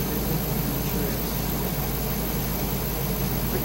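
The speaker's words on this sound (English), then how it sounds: "Just fired up the engine." An 8.1 Vortec engine in a WorkHorse chassis idles with a dense, constant broadband rumble and hiss, loud and steady throughout with no voices.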